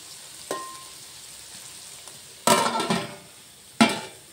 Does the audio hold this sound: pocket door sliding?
no